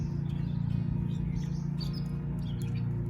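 Small birds chirp and tweet in quick, scattered high calls over a steady low hum, at a lakeside stop near Lake Lure, North Carolina.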